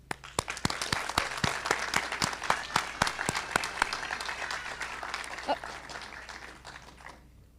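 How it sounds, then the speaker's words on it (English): Graduation ceremony crowd applauding, a sustained wash of clapping with a few sharp, distinct claps standing out near the front, fading gradually toward the end before a brief quiet. "Please join me in applauding their special day."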